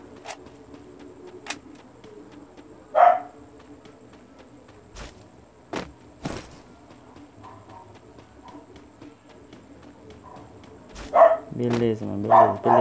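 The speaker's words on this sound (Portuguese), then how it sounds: "o cachorro só quer se manifestar de noite quando tá todo mundo quieto dormindo" A dog barks at night while everything else is quiet: a short bark near the start, then a louder burst of repeated barks at the end, with faint footsteps and scattered knocks in between.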